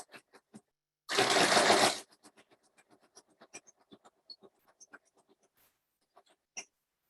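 A sewing machine stitching a fabric hot pad runs in one loud continuous burst of about a second, followed by light scattered clicks and handling noises.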